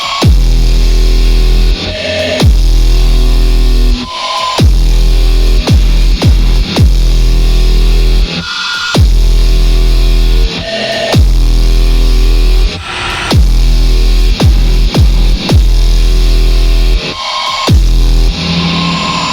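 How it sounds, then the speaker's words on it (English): Doom-inspired synthesizer patch run through a frequency shifter and reverb, producing loud, dense, distorted tones in repeating bursts separated by sharp cutoffs and falling sweeps, with no voices. "every time I change this frequency shifter, my reverb will sound something different"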